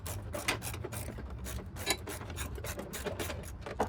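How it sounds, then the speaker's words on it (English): A 13mm long socket works loose the starter bolts on a Lincoln MKS 3.7L AWD, giving a steady close scraping, ratcheting rasp that runs continuously at low volume with no talk. "Long socket, 13mm. Here we go. Loosen these guys up."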